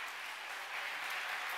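A quiet, distant wash of audience clapping rises briefly at a talk event as the applause meter is tried out, steady and faint throughout.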